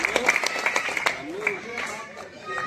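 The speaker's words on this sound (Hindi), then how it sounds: "तालियां बजती रहनी चाहिए।" Crowd clapping at a welcome ceremony with garlanding at a meeting on Namo Ghat, scattered hand claps over ongoing talk, fading in the second half.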